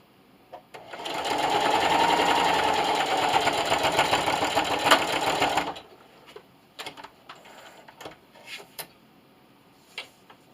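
A sewing machine backstitches across a fabric lanyard with a fast, loud, close whirring run of about five seconds, then stops, leaving scattered clicks and handling taps.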